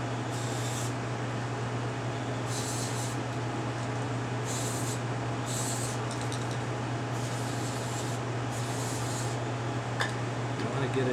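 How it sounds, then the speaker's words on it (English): CRC electronics cleaner aerosol sprayed onto an American Flyer Atlantic 302 model train in repeated short hissing bursts of about a second each over a steady mains hum. "This is called CRC cleaner, and it's electronics cleaner, but it's a spray, and it sort of evaporates."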